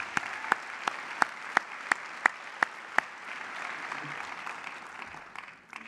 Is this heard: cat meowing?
no